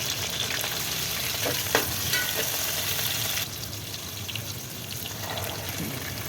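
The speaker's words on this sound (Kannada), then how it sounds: "ಟೊಮೊಟೊ ಒಂದು ಟೊಮೊಟೊ ಉದ್ದುದ್ದ ಹಚ್ಕೊಂಡಿದ್ದೆ ಅದನ್ನು ಹಾಕೋತಾ ಇದ್ದೀನಿ" Lengthwise-sliced tomato frying in a hot pan for tomato bath, a loud continuous sizzle and crackle with occasional stirring, the hiss dropping a little partway through, no speech.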